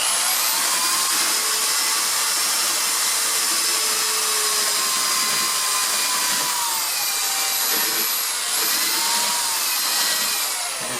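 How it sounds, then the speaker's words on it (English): A drill motor runs continuously, sanding foam rubber for a motorcycle seat with a harsh, loud, close whine that barely changes pitch throughout. "so I use a drill motor."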